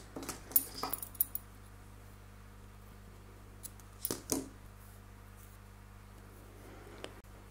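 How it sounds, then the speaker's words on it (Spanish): Scissors snip through crochet yarn for a knitted pumpkin, a few quiet close cuts early on and another short cluster midway, with long stretches of low room hiss in between. "Ahora cortamos el mismo color de hilo,"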